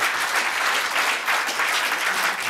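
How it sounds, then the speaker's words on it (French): A crowd at a campus event applauds themselves, a loud, even wash of many hands clapping close by without pause, with faint voices blended in. "là vous pouvez vous applaudir"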